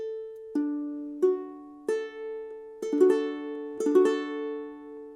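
A ukulele strums a chord six times in a loose rhythm, each stroke clean and ringing close by with a gentle decay, and no voice over it.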